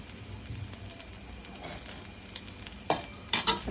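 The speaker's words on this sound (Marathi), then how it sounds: "फास्ट गॅसवर परतून घ्यायचा" Shredded cabbage tossed in a hot pan for schezwan rice, giving a soft steady sizzle with a few sharp metallic clinks of the spatula against the pan near the end.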